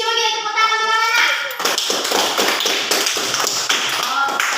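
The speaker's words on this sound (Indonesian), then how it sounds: "coba kita tepuk tangan dulu anak" Schoolchildren in a classroom clap their hands in a quick rhythmic pattern after a short voiced opening, the close, crisp claps repeating evenly and closely spaced.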